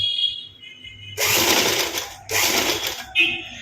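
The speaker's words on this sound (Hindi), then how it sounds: "ये देखिए सिलाई कैसे करना है" An operated sewing machine stitching fabric, two loud whirring runs of rapid needle clatter separated by a brief pause, with quieter mechanical clicks before and after.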